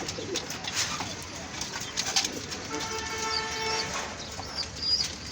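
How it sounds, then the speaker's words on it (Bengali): Pigeons in a breeding loft, with soft cooing and bird calls amid rustling and light movement, a few sharp clicks and a short whistling tone, fairly close and moderately loud. "আরেক পেয়ার কবুতর"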